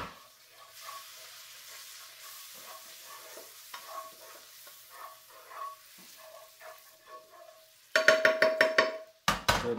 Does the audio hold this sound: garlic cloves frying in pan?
yes